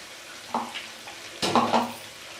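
Chicken pieces frying in a pan, with soft sizzling and two bursts of stirring scrapes against the metal, fairly quiet and close with no talking.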